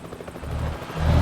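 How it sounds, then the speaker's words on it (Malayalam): Helicopter rotor blades spin in a truck driving video game, a low rhythmic chopping thrum that grows louder toward the end, heard briefly without talk. "ഹെലികോപ്റ്റർ മറ്റേ ബ്ലേഡൊക്കെ ഓണാക്കിയിട്ടേക്കുന്നു"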